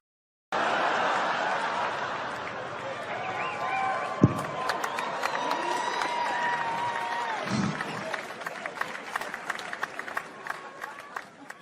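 Comedy club crowd at a stand-up show cheering and applauding after a question to the room, a sustained roar of clapping, whoops and scattered laughter that stays full throughout, with a couple of louder shouts.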